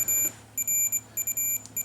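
Ringtone from an Ekster aluminum tracker card, triggered from its phone app: bursts of bright, high electronic beeps in repeating clusters with brief gaps between them, clear and alone.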